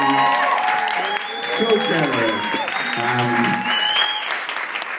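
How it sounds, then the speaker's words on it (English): Audience applause at a 50th birthday party in a venue, a warm burst of clapping with a few whoops while someone talks over it. "could you please give a big round of applause"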